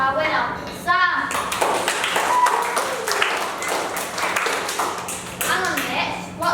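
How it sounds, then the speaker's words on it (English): A round of applause from an audience at a school end-of-year show after a race, with scattered clapping mixed with children's and adults' voices. "Can we have one round of applause for our winner, Sam?"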